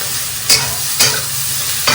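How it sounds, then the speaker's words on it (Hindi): Ingredients for khichdi fry in a pan with a steady, broad sizzle, broken by three brief louder stirring scrapes spaced about half a second apart. "तो बस मैं जल्दी जल्दी फ्राई कर लेती हूँ।"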